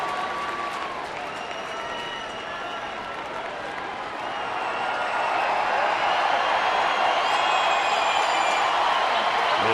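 Steady roar of a baseball stadium crowd on a Tuesday night, urged on by the scoreboard for a strikeout, with applause and cheering that swells louder in the second half.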